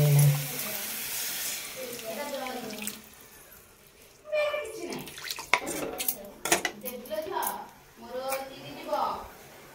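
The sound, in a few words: water poured into cooking pan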